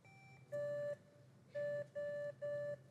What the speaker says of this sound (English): what we are going to do is a quick buzzer check